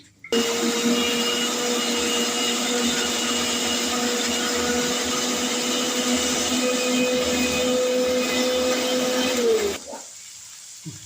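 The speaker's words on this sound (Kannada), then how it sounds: "ಮಿಕ್ಸಿಗೆ ಹಾಕಿ ಇದರದೊಂದು ಪೇಸ್ಟ್ ರೆಡಿ ಮಾಡ್ಕೋಬೇಕು." A loud mixer grinder whirs at full speed for about nine seconds blending spinach into a paste, a steady high motor whine that stops abruptly, with no talking.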